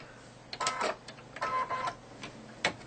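An embroidery machine tacks fabric down in quiet bursts of rapid stitching, several short mechanical runs separated by brief pauses, close but faint.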